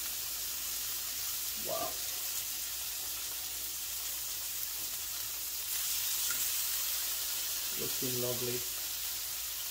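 Salmon searing in a hot pan gives a steady, even sizzling hiss throughout, with two brief spoken remarks over it.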